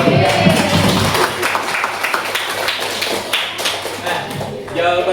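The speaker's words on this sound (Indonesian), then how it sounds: "Beri tepuk tangan dulu." Classroom applause from students during a spatial planning lesson, loose, uneven clapping with distinct taps and thuds, swelling and fading in waves with some voices.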